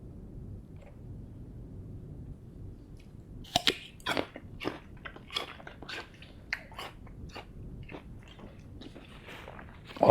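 Someone chews a spoonful of Whole Foods peanut butter at a tasting, giving close, moist mouth clicks and soft smacking that start after a few quiet seconds and continue irregularly.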